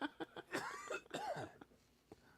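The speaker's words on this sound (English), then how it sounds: "All right, I coughed that time." One person coughs several times in a row, close and fairly harsh, with a throat-clearing rasp between the coughs and then quiet at the end.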